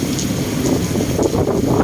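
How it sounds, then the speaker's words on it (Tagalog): Strong wind roars steadily into the microphone on a balcony during heavy rain in Manila, a constant low rumbling buffet with gusty swells, loud and close throughout. "Malakas yung hangin dito."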